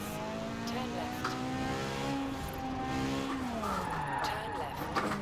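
A car drifts in the Forza Horizon 4 racing game, its engine droning in rising and falling tones while tires squeal and skid through the slide, with a voice talking over it.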